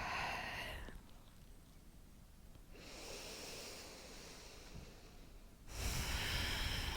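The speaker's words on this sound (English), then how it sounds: "So I want you to send your breath to your neck." Slow, deep breaths during a breathing exercise: a long loud exhale fades into a quiet pause, then a steady inhale and a second strong exhale, close to the microphone.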